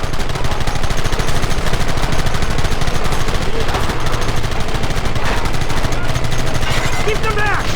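Rapid gunfire in Red Dead Redemption, loud close volleys of shots cracking almost continuously in overlapping bursts, with shouted voices mixed into the firefight.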